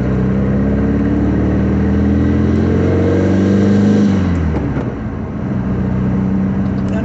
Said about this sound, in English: all you can hear is just this motor just purring behind you